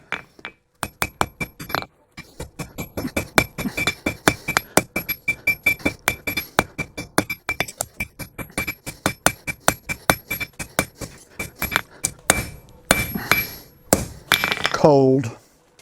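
A blacksmith hammers hot metal on an anvil in a long run of sharp ringing strikes in steady rhythm, with brief pauses and a few heavier, scraping blows near the end.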